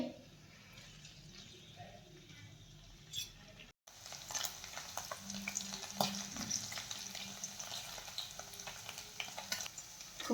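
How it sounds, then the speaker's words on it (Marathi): Paneer cubes fry in a ladleful of oil in a kadhai over a high flame, giving a steady, faint hiss and crackle with occasional stirring clinks, while a person talks softly. "सर्वप्रथम आपण पनीर छान तळून घेऊयात मोठ्या आचेवरती आपल्याला पनीर तळून घ्यायचं आहे"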